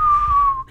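A single person whistles one sustained, slightly falling note for under a second, close and clear with no talking over it.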